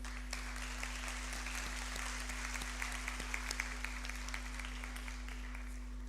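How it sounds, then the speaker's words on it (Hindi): Audience at a women's labour and economic empowerment event applauding to welcome a speaker, a steady, moderately distant patter of many hands clapping over a constant low electrical hum. "तो बहुत सी तालियों में उनका इस्तकबाल किया जाए"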